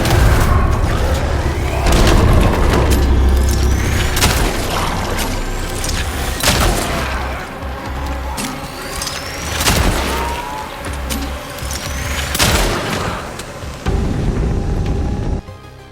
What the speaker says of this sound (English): Landing a charged shot downs an enemy really quick, and you also save bullets in doing so.